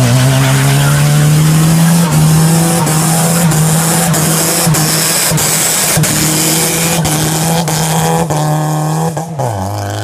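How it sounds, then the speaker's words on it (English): A car doing burnouts, its engine holding a loud steady drone while the tires squeal continuously close by, with the revs dropping near the end. "Hope you guys enjoy those burnouts."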